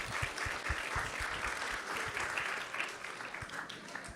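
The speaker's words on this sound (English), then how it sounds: "A round of applause." Sustained applause from a temple audience at a Sunday Feast lecture, steady and dense with many hands clapping at once for the full stretch, fairly close and even in loudness.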